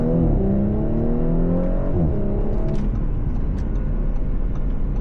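A 2020 Audi S5 Coupe engine revs hard under full throttle in first gear, its pitch climbing steadily before easing into a sustained roar.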